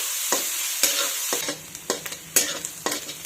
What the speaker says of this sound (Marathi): कांदा आता आपण चांगला गुलाबी रंगावर आणि मऊ होईपर्यंत परतून घेऊया।